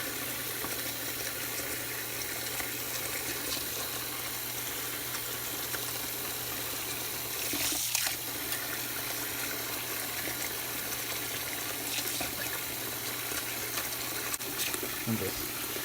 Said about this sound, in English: Some hot water on there.